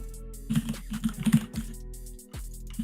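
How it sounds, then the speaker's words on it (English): Rapid typing on a computer keyboard, close and crisp, in a dense burst of key clicks that pauses briefly, then resumes with a few scattered taps. "I just typed very fast"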